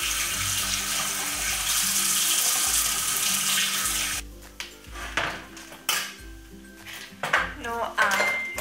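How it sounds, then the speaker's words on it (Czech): Warm water gushes from a kitchen tap into a large mixing bowl used for rising homemade bread dough. A steady, loud rush lasts about four seconds, then cuts off, followed by scattered clinks and knocks of the bowl. "takže si napustím teplou vodu,"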